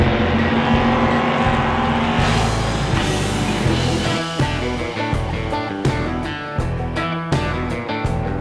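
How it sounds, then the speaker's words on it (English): NASCAR race car engine firing up at Richmond Raceway, a loud deep roar that settles into choppy revving bursts with short gaps between blips, close and alone. "Driver, start your engine."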